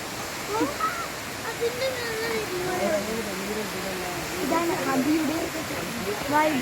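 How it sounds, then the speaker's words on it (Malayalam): Abbey Falls at Madikeri roars as a broad, steady wash of rushing water that fills the whole scene, while a crowd of visitors talks over it, with several voices speaking nearby. "ഇതാണ് മടിക്കേരി വാട്ടർഫാൾസ്"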